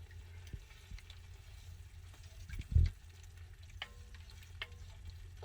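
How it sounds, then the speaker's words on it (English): Tomato simmering in an Italian sausage and kale soup in a pot, giving a faint, quiet bubbling sizzle with light stirring and one brief louder clunk of a utensil partway through. "I'm going to add in the tomato here and let it simmer"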